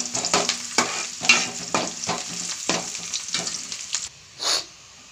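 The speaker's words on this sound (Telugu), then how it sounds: "చూడండి ఉల్లిపాయలు ఇలాగ ఫ్రై అయ్యాయి కదా" Onions and green chillies fry for a chicken curry, a steady close sizzle broken by repeated scraping stir strokes, then the sizzle drops away near the end with one last brief burst.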